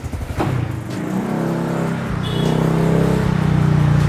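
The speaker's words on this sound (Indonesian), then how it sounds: "Gue akan test ride motornya ke sana" A Honda Vario motor scooter pulls away on a test ride after earlier stalling, its engine rising from a few sputters into a steady, building hum close by, with no voices.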